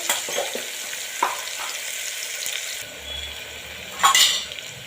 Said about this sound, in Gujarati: डूंगળी सरस फ्राय थवा देवानी छे